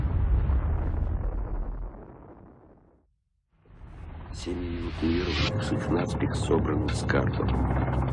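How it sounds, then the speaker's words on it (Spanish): A hydrogen bomb detonation roars as a deep, sustained rumble, fades briefly to near silence, then swells again into a heavy rolling blast with crackling bursts, under a documentary narrator speaking. "La potencia de la explosión es similar a la de 10 millones de toneladas de TNT."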